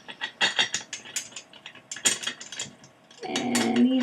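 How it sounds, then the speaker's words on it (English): During assembly of a Dremel workstation, a nut is turned onto a bolt by hand: a close series of quick, uneven metallic clicks and ticks, ending in a louder rattling scrape. "One nut goes into the bolt. And he gets screwed in there."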